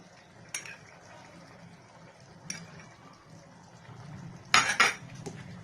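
A metal spoon clinks and scrapes against a cooking pot holding chicken, ground peanuts, water and salt for soup, giving a few sharp, separate knocks over a quiet background of soft stirring.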